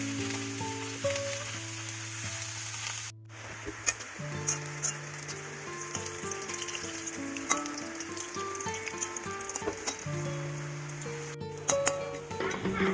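Brahmi leaf fritters frying in hot oil, a continuous close sizzle with a brief pause as a fritter is turned, then renewed crackling and bubbling with occasional utensil clicks.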